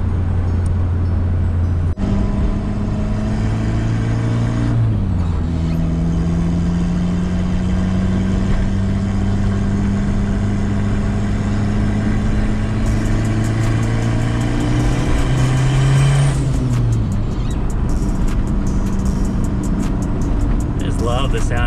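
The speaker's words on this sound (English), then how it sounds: "love the sound of a turbo car, dude. So sick." Turbocharged Honda Civic with a B20 engine, sitting close by at a steady idle, then revving up in smooth sweeps that hold and fall back, loud and continuous throughout.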